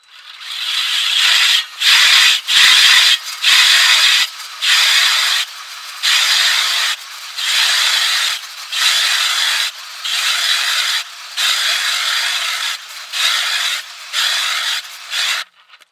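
An Eskimo powered ice auger with a new bit drills a hole through lake ice, its harsh rasping whine coming in about a dozen repeated bursts with short pauses, close and loud, no talking.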